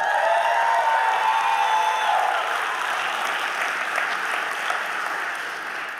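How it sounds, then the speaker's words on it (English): A church congregation gives a warm round of applause for the pastor's wife, steady and full throughout, with scattered cheers and whoops mixed in as talk fades at the start. "can you go ahead and give my wife a round of applause?"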